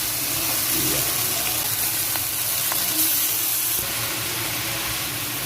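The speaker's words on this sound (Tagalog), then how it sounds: "Kaya pala marami ating kamatis ginigisa guys kasi ilagay na natin yung ating liempo." Pork belly liempo frying with sautéed tomatoes in a pan, a loud, steady sizzle and hiss with occasional faint stirring clicks throughout.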